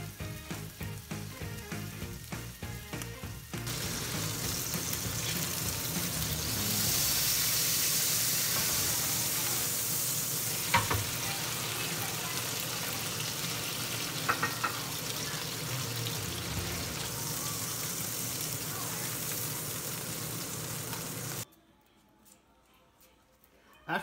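Burger patties fry in oil, giving a continuous crackling sizzle that swells in the middle and cuts off near the end, with occasional louder pops and faint background voice.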